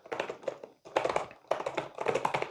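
Someone types on a DOQO AluHub keyboard in close, quick bursts of tapping keystrokes with short pauses between groups, and no one speaks.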